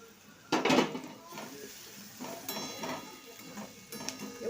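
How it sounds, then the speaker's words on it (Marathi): A small chopped tomato goes into a hot pan of vegetable curry with a short clatter, then faint sizzling and occasional utensil clinks against the pan follow close by. "टमाटे टाकून घेते मी आता आपले टमाटे टाकून घ्यायचे"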